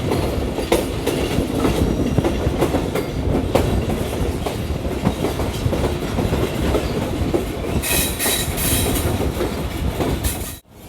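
The 42 Down Karakoram Express rumbles loudly across the Sindh river bridge near Kotri, its wheels clattering in a steady rhythm over the rails with some squeal, until the last coach clears and the sound drops away.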